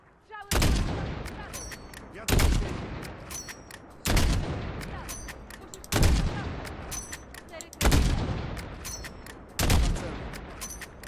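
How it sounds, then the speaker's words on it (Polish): Gunfire in Call of Duty Modern Warfare on a highway battlefield with sniping and mortars: six loud, evenly spaced shots roughly every two seconds, each a sharp crack with a booming tail, and faint voices underneath. "Strzały"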